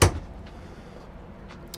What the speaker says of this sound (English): you've got a drawer on this side